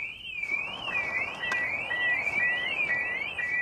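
An aftermarket car alarm at a car meet wails in a repeating up-and-down electronic siren, steady and fairly close, with a brief thump partway through.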